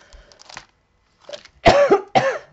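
A woman coughs close to the microphone, two loud harsh coughs following some faint rustling and a short silence.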